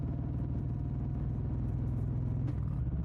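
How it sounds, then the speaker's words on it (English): A motorcycle engine hums steadily throughout a midnight ride on an empty road, a low continuous rumble with no pauses and no voices. "The engine still hums beneath the seat."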